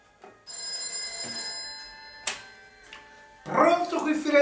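A telephone rings at a Florence FM radio station, with bright ringing bursts and a brief pause between them, close and clear, before a voice starts talking over the end.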